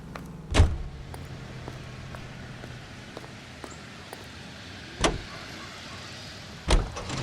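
Car in the L.A. Noire video game: three sharp thuds like doors shutting, spread apart over a low steady engine idle, with no one talking.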